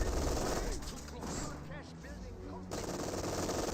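Bursts of machine-gun fire rattle across a Company of Heroes 2 battlefield as a Grenadier is hit, the rapid shots layered with other battle noise and brief speech-like sounds mid-clip.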